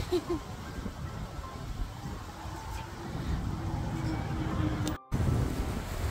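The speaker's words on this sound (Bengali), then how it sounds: "এত পরিমাণ হাওয়া দিচ্ছে" Strong spring wind in Taiwan buffets the microphone in a continuous roar, with a brief dropout near the end before the gusting resumes.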